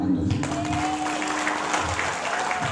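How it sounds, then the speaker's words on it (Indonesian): Seminar audience applauding indoors, a steady dense clatter of many hands that fills the whole stretch at an even, fairly loud level, with a faint voice briefly at the start. "Tepuk tangan buat Anda."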